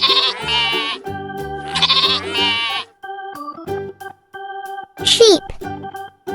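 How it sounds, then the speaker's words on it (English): Sheep bleat loudly and up close, two long wavering calls followed by softer intermittent tones and a final sharp bleat. "Sheep."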